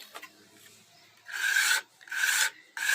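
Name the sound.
smoothing the sides of a plaster mold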